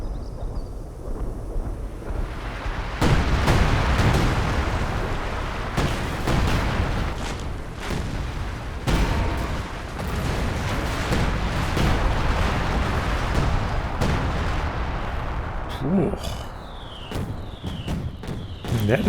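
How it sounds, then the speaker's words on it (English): Artillery shells exploding in the strategy game OKW, a series of heavy booms and rumbling blasts in a dense barrage, with wind-like rushing noise between impacts. "See how devastating it is close to the middle where most of the shells are supposed to be landing."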